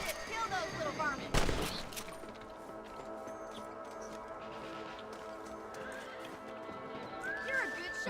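Horses whinny and hooves clop in the Red Dead Redemption video game, with a sharp gunshot-like burst early on, repeated neighs near the start and end, and a steady ambient music bed throughout.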